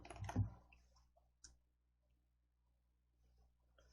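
Two crisp computer mouse clicks, close and quiet, are heard during a block-coding lesson, with near silence between them.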